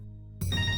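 After a brief near-silent moment, a phone suddenly starts ringing with a bright, steady electronic tone that continues to the end.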